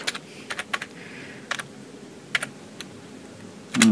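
Someone types a name on a computer keyboard, with short scattered bursts of crisp keystrokes separated by pauses and a louder knock at the end, close and clear in a quiet room.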